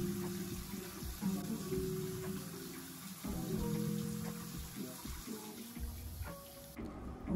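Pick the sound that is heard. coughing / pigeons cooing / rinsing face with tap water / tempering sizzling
rinsing face with tap water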